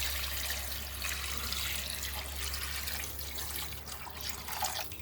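Water, 1.2 litres, is poured steadily into a pot of chickpeas with tomato paste, a continuous close splashing and filling rush throughout.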